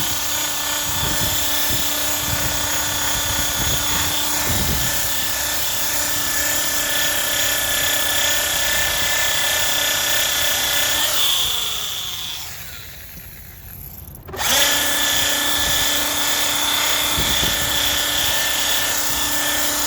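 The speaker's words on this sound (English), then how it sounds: "Buffer is loud" A power buffer polishes a Toyota Tacoma headlight with a loud, steady high-pitched whine that runs almost throughout, briefly dips and changes pitch near the end, then resumes at full strength.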